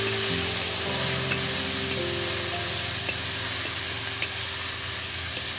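Chopped cabbage frying and sizzling in a pan for a Bengali cabbage ghonto, with a steady loud sizzle and occasional clicks of a spoon stirring, no talk.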